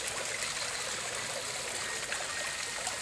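Water splashing and trickling from a newly installed pump-driven garden fountain, a steady, even rushing flow heard close up with no breaks and no voices.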